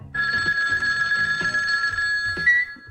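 A telephone bell rings in a steady, continuous trill, close and loud, with repeated ring bursts and no voices over it.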